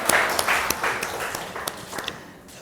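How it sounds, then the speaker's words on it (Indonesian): An audience at a school talk show and showcase for teachers claps together, a moderate, somewhat sparse patter of claps with a few sharper slaps, fading toward the end. "Tepuk tangan untuk kita semua."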